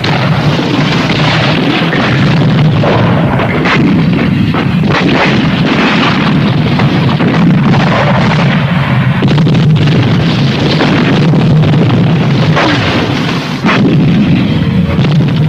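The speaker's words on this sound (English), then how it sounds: "the artillery will put down covering fire, which may include smoke, in support of the attacking tanks and APCs" Artillery lays down covering fire in support of attacking tanks and APCs in a 1983 Soviet-style military training film, a dense, continuous barrage of loud booms and rumbling blasts with no pause.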